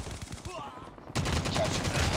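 Gunfire in Call of Duty Mobile: after a quieter moment, a sudden burst of rapid automatic shots erupts close and loud, continuing steadily to the end.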